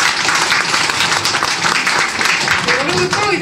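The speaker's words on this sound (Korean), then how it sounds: "다시 한번 여러분께도 큰 박수 부탁드리겠습니다." Audience applause at a 2019 book launch event for a journalist's book in Andong, steady dense clapping from a crowd held for several seconds, with faint voices near the end.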